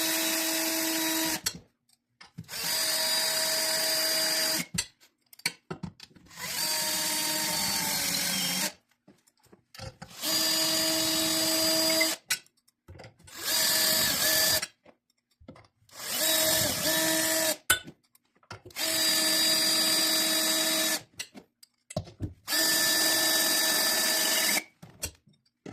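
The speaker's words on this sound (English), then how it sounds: "I like to use a long shank screw bit like this because when you're working really close to these handles, it keeps the bit nice and square to the screw" Power drill driving self-threading screws through a long shank screw bit on a boat step installation, eight or so whirring bursts of a few seconds each, separated by short silent pauses.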